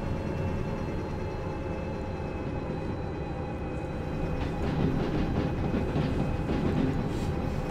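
A locomotive rolls slowly along the track in the railway simulator Derail Valley, a steady low rumble with faint clattering that stays even and close throughout, with no voices.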